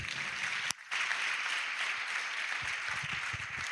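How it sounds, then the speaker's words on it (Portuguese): A church congregation at a cathedral communion service applauds in a dense, continuous wash of many hands, steady and fairly distant, with one brief dip partway through and faint voices underneath. "Então dê um aplauso a Jesus"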